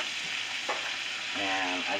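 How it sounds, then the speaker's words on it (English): Butter and flour cook in a pot as a roux for brown gravy, giving a soft continuous sizzle with brief stirring scrapes and a short tonal squeak near the end. "And you want to get the flour to brown a little bit."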